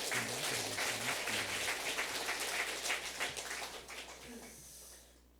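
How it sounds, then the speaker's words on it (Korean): Congregation at a Korean Sunday church service applauds the kitchen staff with soft, dense, fairly distant clapping that holds steady and then fades out at the end. "감사와 격려의 박수 드리겠습니다"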